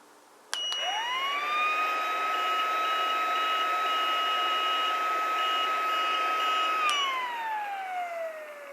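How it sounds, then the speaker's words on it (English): A powered air purifying unit's low-battery alarm sounds a constant, loud, steady electronic tone that rises in pitch at onset, holds unbroken for several seconds, then glides down as it stops. "followed by a constant beeping from the auditory alarm"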